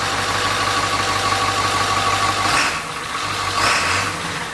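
A 1946 Ford Powerstroke diesel engine idles steadily close by, a low rumbling drone with a slight dip and recovery partway through, and no voices over it.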